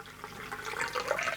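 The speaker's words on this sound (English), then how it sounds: "I'm really trying to give this an aggressive pour to get some head on that" Old ale beer pours in a close, splashy, bubbling gush into a glass, aggressively poured, growing slightly louder as it fills, with no voices.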